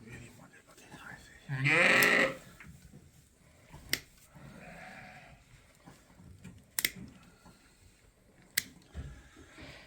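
Sheep on a farm during shearing: one loud, close bleat rises early, with fainter bleats and scattered clicks and knocks later under quiet talk.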